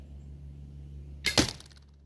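An arrow shot from a bow strikes another arrow already in the target, giving a single sharp crack after a quiet low hum, heard alone.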